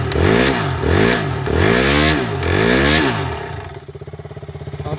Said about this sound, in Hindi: आपने सुना, जैसे मैं थ्रॉटल दे रहा हूँ तो कट कट कट की आवाज़ आ रही है।